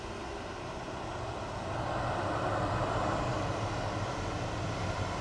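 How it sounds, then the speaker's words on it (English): A Jet2 Boeing 737-800 departing Manchester Airport for Rome gives a broad, steady jet engine roar that builds slightly and then holds constant, heard from some distance with no voices. "Jet2 987 to Rome, GJZBR 737-800."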